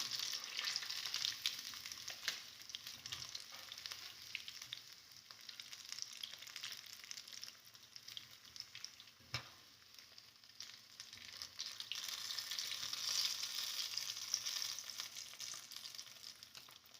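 Silver fish coated in rava shallow-frying in a pan, a steady close crackling sizzle with no voices, holding at an even loudness throughout.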